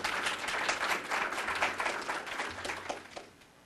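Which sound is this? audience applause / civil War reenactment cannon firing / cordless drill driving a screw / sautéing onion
audience applause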